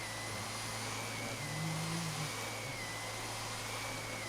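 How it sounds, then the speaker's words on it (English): A vacuum cleaner runs steadily and loudly at close range, a continuous rushing roar with a thin, high motor whine on top and a slight swell midway. "Have you ever listened to your vacuum?"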